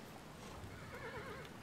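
A horse in the video game Kingdom gives a short whinnying neigh over soft hoof clip-clops and game background sound, fairly faint and brief.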